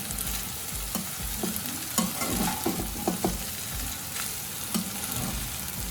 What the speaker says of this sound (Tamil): ரைஸ் ஒரு நிமிஷம் அந்த பேன்லேயே நல்லா ஃப்ரை ஆகட்டுங்க.